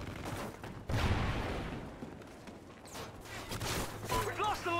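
Gunfire in the shooter game Call of Duty: Ghosts, with scattered mid-level shots and a busy battle din mixed under a player's excited talking.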